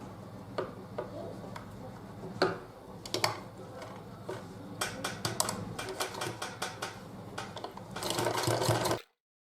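Sewing machine stitching piping onto slippers made from an old T-shirt, bursts of rapid mechanical clicking and ticking that start and stop repeatedly, ending in a longer steady run.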